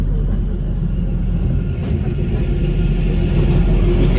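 The Kalka Shimla toy train, the Shivalik Deluxe Express, runs along the heritage mountain railway with a loud, steady, close rumble of wheels and carriages that holds unbroken throughout.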